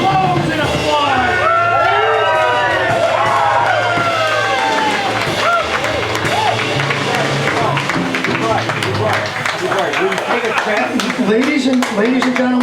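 An auction room audience erupts in loud cheering, whoops and shouts over sustained clapping after a record-setting literary manuscript sale, the crowd noise dense and continuous throughout.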